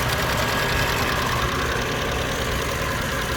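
A 1997 Lexus ES300 six-cylinder engine idles with a steady, close, continuous drone and faint ticking, and nothing else is heard over it.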